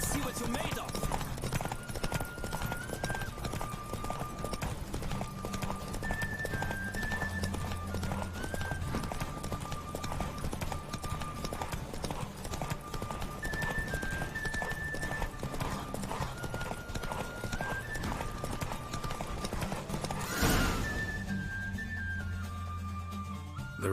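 Roach, a horse in The Witcher 3, gallops through a race with steady clip-clop hoofbeats that run continuously under game music, with a brief burst of noise near the end and voices speaking in places.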